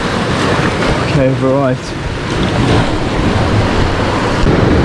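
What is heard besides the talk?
ocean waves washing over rocks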